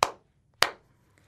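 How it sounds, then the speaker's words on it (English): Children in a Rwandan English literacy lesson clap their hands together in unison: two sharp, crisp claps roughly half a second apart, loud and close, with quiet in between and no talking. "clap your hands"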